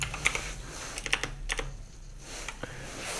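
Typing on a computer keyboard, a burst of quick, close key clicks with short pauses, fairly quiet and with no voices.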